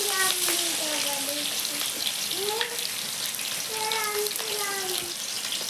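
Potatoes fry in a pan with salt and turmeric, giving a steady close sizzle and hiss. Intermittent tonal, voice-like chirps rise and fall above it.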